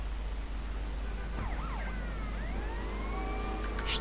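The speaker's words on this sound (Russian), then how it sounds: "Ой-ой, полицейская машина прям за мной едет." A police car siren in GTA Vice City, wailing and sweeping at moderate distance over constant engine rumble, rising and falling several times and growing clearer toward the end.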